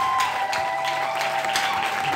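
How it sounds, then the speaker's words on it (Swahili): Church congregation applauding during a healing testimony service, a steady mass of hand claps with a few sharper claps standing out, accompanied by a sustained tone beneath. "Piga Yesu makofi."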